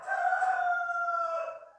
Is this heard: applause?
no